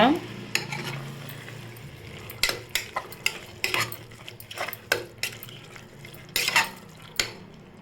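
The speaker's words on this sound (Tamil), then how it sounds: "புதினா சேர்த்து நல்லா வதக்கிக்கோங்க" Mint leaves sautéing with green chillies in a pan for a dried-fish biryani, a soft frying hiss under repeated spoon scrapes and clinks against the metal, close and fairly quiet.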